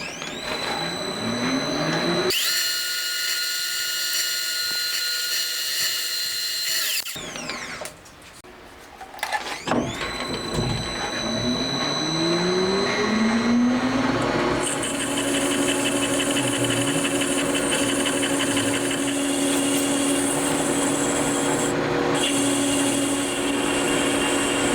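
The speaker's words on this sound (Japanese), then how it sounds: "反転させて反対側も削っていきます。" A part for a Honda Monkey engine that is being rebuilt as a 124.4cc four-cylinder is ground down by a loud, steady, high-pitched machine whine. The whine drops out briefly in the middle, then resumes and holds for a long stretch.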